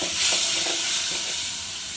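Toor dal tipped into hot spices in a pan for a sweet-and-sour Gujarati dal, giving a bright, loud sizzling hiss that swells briefly and then settles into a steady fry.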